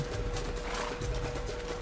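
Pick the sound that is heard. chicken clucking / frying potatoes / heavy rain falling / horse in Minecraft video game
horse in Minecraft video game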